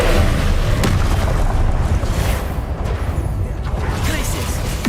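An Incendio fire spell is cast in the Hogwarts Legacy video game, a loud roaring burst with a booming, rumbling body that swells and settles over a few seconds.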